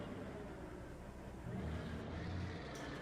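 A steady low engine rumble from a Ford 1210 truck in Euro Truck Simulator 2, constant and fairly loud, growing slightly heavier partway through, with no talking.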